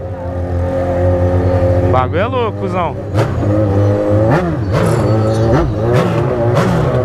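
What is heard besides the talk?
motorcycle engine revving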